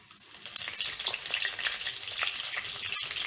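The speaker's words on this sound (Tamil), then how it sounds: "கடுகு வெடித்ததும் கருவேப்பிலை சேர்த்துக்கலாம்." Mustard seeds and curry leaves frying in hot oil for a fish curry, a steady close sizzle with faint popping crackles throughout, no voices.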